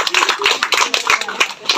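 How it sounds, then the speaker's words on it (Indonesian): A small group clapping at a community training session on making complementary food for infants and children, brisk close hand claps in a lively, somewhat rhythmic burst lasting under two seconds. "Tepuk tangan."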